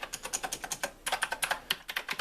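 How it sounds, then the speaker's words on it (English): Rapid clicky keystrokes on an Azio MK Retro typewriter-style mechanical keyboard, close and crisp, in two quick bursts of about a dozen sharp clacks each with a brief pause between. "clicky little keys"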